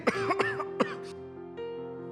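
Several quick, raspy coughs up close from breathing in smoke, followed by a faint steady tone lingering in the background.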